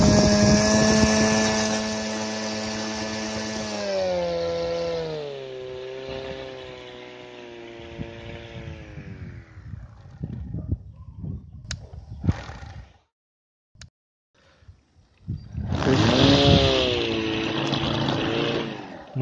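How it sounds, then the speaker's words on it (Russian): A homemade electric lawnmower in its quiet speed mode, its motor whining steadily and then slowing and falling silent before spinning back up loudly near the end. "Можно установить достаточно тихий режим, и траву нормально косит, и не так шумно."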